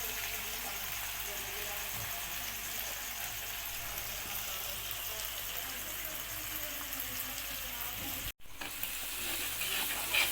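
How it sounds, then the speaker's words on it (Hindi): Spinach and chana dal with green chillies stirred in a hot pan, a continuous close frying sizzle with soft scraping movements, briefly cut by a short gap near the end before the hiss resumes. "अब इसको अच्छी तरह हिला लेंगे।"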